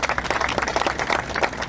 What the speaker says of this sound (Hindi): तो आप लोगों के लिए हमारी जोरदार तालियां हैं।